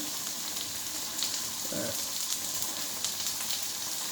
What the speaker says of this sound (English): a little bit of lard, and put the onions in first. We'll just put them in to soften up for a minute